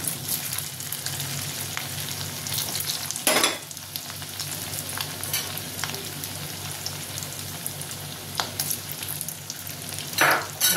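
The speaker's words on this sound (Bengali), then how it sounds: "এগুলো আমি এবার ভেজে নেবো ভালো করে" Pieces of poa finger dough frying in oil, a dense, even crackling sizzle held throughout, with a couple of louder bursts of spattering as pieces are moved.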